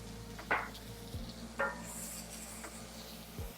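Garlic cooks in a pan for a Brazilian pot roast, with a faint steady sizzle under several sharp scrapes and clinks of a utensil stirring against the pot, no voices present.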